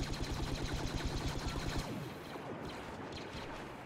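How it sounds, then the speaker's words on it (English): A heavy laser gun fires in rapid sustained bursts in Star Wars Battlefront's Walker Assault mode, a loud rhythmic stream of blasts for about two seconds before it stops and quieter battle noise carries on. "I'm using the heavy laser gun right now, kind of like an LMG"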